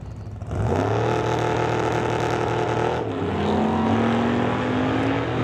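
Drag race cars launch side by side down the strip at a Mission, BC drag racing event, one using a throttle stop. A loud, close engine roar rises in pitch and holds steady, then a second rising engine tone follows.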